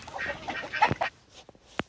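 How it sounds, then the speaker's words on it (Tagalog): Chickens clucking at a farm, a burst of overlapping clucks and calls that thins into a few sparse, sharp cackles, fairly close and alone without talk. "Lahat ng manok nagpag-iklugan na"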